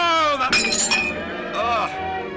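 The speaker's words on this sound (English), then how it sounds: "you broke your glass" A drinking glass breaking during a grand banquet scene, a sharp bright clink and brief shatter ringing out between voiced, sung-like tones and dramatised talk.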